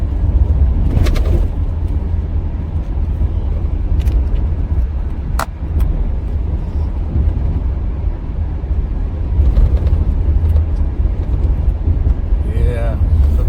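Steady car interior drone on a long daily commute, a constant low engine and road rumble with occasional rattles and clicks, voices talking over it near the end.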